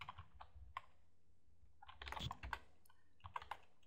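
Quiet typing on a computer keyboard, a few scattered keystrokes then short bursts of rapid clicks, close and soft, with no voices.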